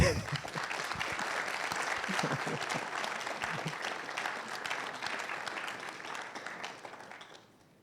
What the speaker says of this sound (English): I think they deserve a clap